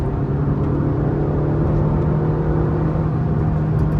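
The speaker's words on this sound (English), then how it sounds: "Post 3000 rpm, the engine gets very vocal" A 2019 Maruti Suzuki Baleno facelift engine drones loudly and steadily from up close, a sustained low rumble with a constant tone as it pulls under acceleration past 3000 rpm.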